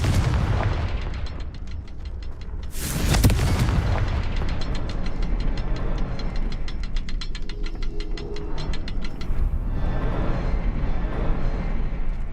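A Confringo fire spell in the Hogwarts Legacy video game, heard as a sharp loud blast followed by a dense, continuous crackling and rumbling roar of game effects, with no talk.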